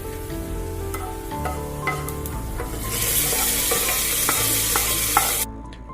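Browned fried shallots tipped into a Kerala-style dry prawn and mango curry and stirred, a close crackling sizzle with scraping spoon strokes that swells louder halfway through before cutting off, no voices.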